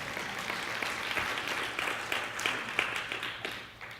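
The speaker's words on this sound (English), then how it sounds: "That deserves an applause." An audience claps in sustained applause, a dense, even patter of many hands lasting the whole stretch without pause or talk.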